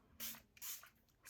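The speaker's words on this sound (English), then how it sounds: "I'm gonna go ahead actually and spray this Ceriome moisture toner" Ceriome moisture toner spritzed from a spray bottle, two quick close soft hissing sprays about half a second apart with a third starting at the end, quiet and alone.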